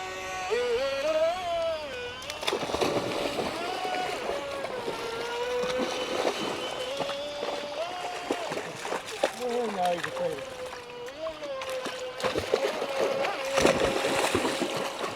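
A small 3D printed jet boat runs across a lake on its first outing, its motor whining and shifting in pitch with water splashing, while voices talk over the running engine.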